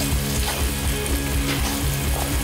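Pork chops frying in olive oil in a skillet, a loud, close, continuous sizzle and crackle with no talk over it.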